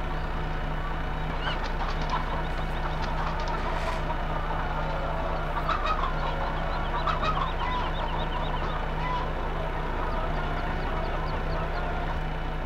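Flock of chickens clucking in Farming Simulator 2015 as they are loaded into a trailer, a steady dense murmur of many birds over a constant low game hum with occasional sharper clucks.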